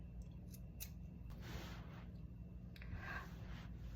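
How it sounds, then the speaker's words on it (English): Scissors cut yarn while finishing a crocheted tote bag: a few quiet, crisp snips in a hushed room. "now all of our yarn has been cut"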